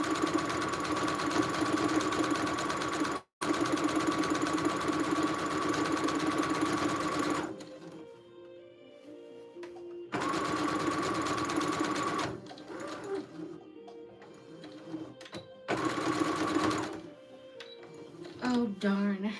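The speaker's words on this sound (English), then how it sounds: "Sewing machine." A sewing machine stitches in loud, steady humming runs of a few seconds, stopping and restarting several times, with short pauses of quieter room sound between bursts while a plant pot sleeve is made.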